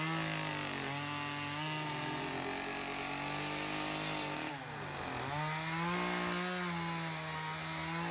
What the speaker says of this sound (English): using the big planer to finish off the ends. And it's very noisy here.